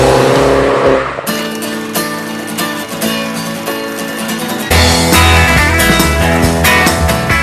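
A one-off concept Mini car driving, its engine revving with a tire squeal and skid under dense music, fairly loud throughout.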